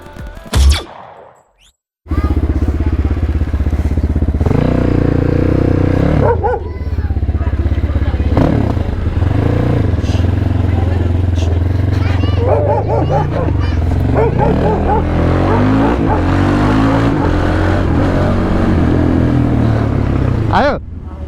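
A motorcycle rides along a road, its engine droning steadily and loudly up close for most of the stretch, with shifting pitch and occasional other noises over it.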